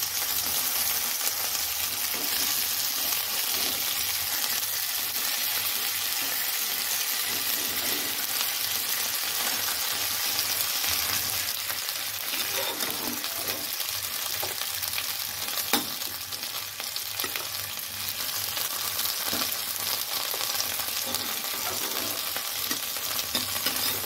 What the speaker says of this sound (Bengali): মাছ আমার ভাজা হয়ে গেছে, ভাজা করা শেষ।